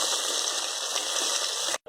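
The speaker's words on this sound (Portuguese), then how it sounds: "Agora eu coloquei água, bem pouco, não muito" A small splash of water poured into a frying pan of sizzling onion, tomato and bell pepper gives a loud continuous hissing gush up close that cuts off abruptly near the end.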